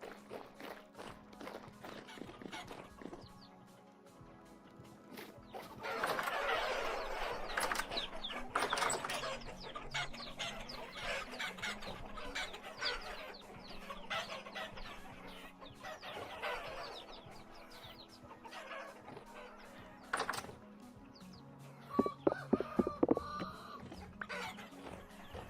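Chickens cluck repeatedly in the video game Vintage Story, a busy, continuous flock sound with overlapping clucks and a few louder bursts near the end, with no talking.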